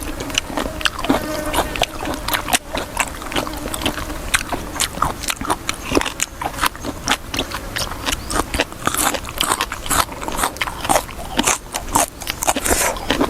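Someone bites into and chews a spicy Thai-style cuttlefish salad up close, making a dense run of crisp, crunchy bites and wet chewing that goes on steadily with no talking.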